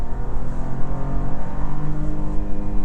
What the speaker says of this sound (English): then I floor the accelerator